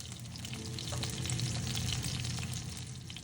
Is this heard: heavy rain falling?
no